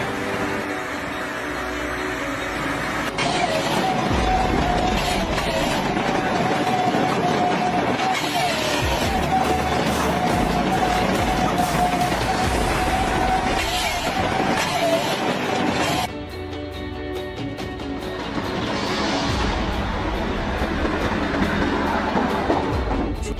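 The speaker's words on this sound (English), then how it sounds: "seeing a train unlike any other slowly rolling along the track" A passing train rolls slowly along a railway track, a steady, loud rumble with rail clatter running throughout, shifting in tone partway through.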